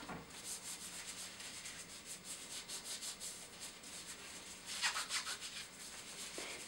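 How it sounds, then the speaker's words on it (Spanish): Gloves being wiped with surface disinfectant during a hospital protective-equipment removal routine: a steady, close rubbing and swishing that repeats in quick strokes, with a brief louder scrape near the end and no voices. "Realice limpieza de guantes con desinfectante de superficies."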